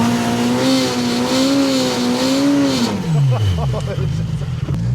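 A Polaris Pro R side-by-side engine revs hard while stuck in deep snow, a steady loud drone that sweeps down in pitch near the end; voices talk underneath.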